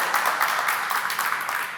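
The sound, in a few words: audience applause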